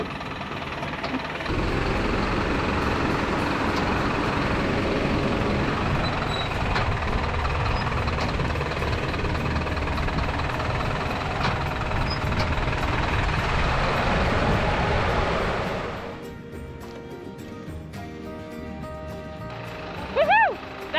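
An Isuzu NPS truck crawls slowly over desert sand dunes pitted with wombat holes, its engine a loud steady drone with rumbling and knocking for about fifteen seconds before it drops away to quieter sound and a brief bump.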